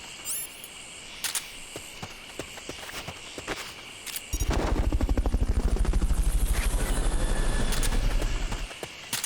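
A Fulton recovery helicopter in the video game Metal Gear Solid Peace Walker arrives midway with a loud, steady rotor thumping that lasts several seconds, following quieter game ambience with scattered clicks and steps.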